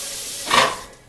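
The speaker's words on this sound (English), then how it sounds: "I'm gonna rinse this spoon off and use it to stir" A spoon rinsed under a running kitchen tap: a steady hiss of flowing water swells briefly louder in the middle as the spoon passes through the stream, then eases off, heard up close with no talking.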